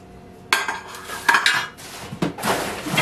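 Cuisinart induction cookware pots, a non-stick skillet and lids are handled, giving a series of close, sharp metallic clanks and clatters, with bursts of knocking and rattling.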